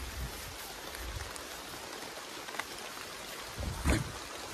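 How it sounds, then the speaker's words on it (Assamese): Soft, steady rain falls outdoors on a hillside jhum cultivation plot, giving an even, fairly faint wash of patter with one slightly louder splash near the end. "বৰষুণ দিছে"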